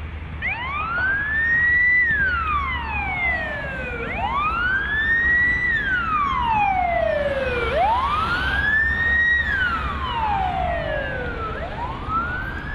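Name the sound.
fire engine sirens passing through streets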